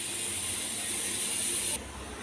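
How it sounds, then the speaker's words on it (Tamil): Tiffin sambar boiling in a pot gives a steady, close, broadband hiss and bubble with no voices, easing off abruptly just before the end. "கொஞ்சம் நேரம் கொதிக்கட்டும்."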